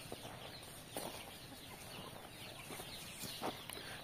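A chicken chick clucks and peeps faintly in short, scattered calls amid soft, noisy background at a poultry sale.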